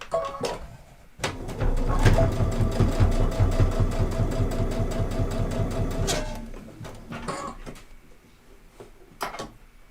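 A sewing machine stitches a fabric face mask in a fast, even mechanical run lasting several seconds, framed by clicks and handling noises before and after.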